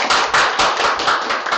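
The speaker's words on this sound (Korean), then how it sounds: "여러분 시작하는 의미에서 뜨거운 박수 한번 부탁드립니다." Warm applause from the audience opening a conflict-resolution forum, a thick, close burst of many hands clapping in quick overlapping waves, loud and steady throughout.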